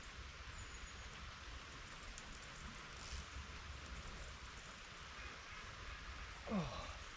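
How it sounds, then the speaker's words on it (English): Light rain begins falling beside the River Severn during an autumn barbel fishing session, a soft, steady hiss that stays even throughout, with a brief rising whir near the end. "just started to rain"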